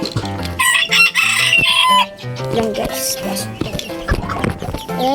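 Chickens cluck busily nearby and a rooster crows loudly, the calls overlapping throughout.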